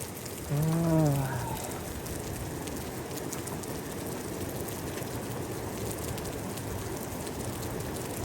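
Heavy typhoon rain pours down on a town, a dense steady roar of drops on surfaces throughout, with a brief vocal-like tone near the start before the downpour carries on alone.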